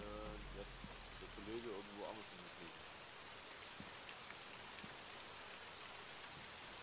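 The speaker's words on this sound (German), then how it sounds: "jetzt kommt der Regen wieder" Steady rain hisses densely in the video game Arma 3, a continuous wash of falling water without pause, while a voice murmurs briefly at the start.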